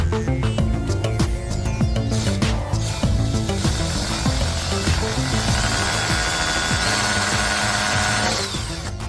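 A power tool drives screws into wood, with dense continuous whirring and grinding plus ratcheting clicks throughout, loud and close, with no talking.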